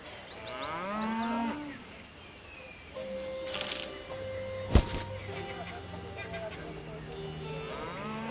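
A cow in the video game The Settlers: Rise of an Empire gives a loud, drawn-out moo near the start, followed by game chimes and a clink while voices speak.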